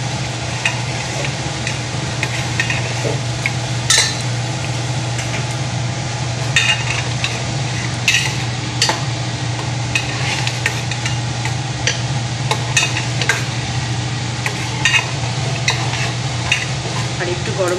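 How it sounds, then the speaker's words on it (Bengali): Bengali khichuri with crushed green chillies being stirred in a pot, a steady simmering hiss under intermittent scraping spoon strokes and light clinks, continuous and close. "নেড়ে দেবো।"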